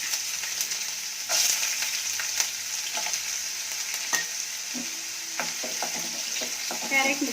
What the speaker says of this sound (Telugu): ఆవాలు చిట్పట్లాడిన తర్వాత క్యారెట్ ముక్కలు,